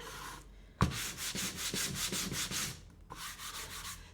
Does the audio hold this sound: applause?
no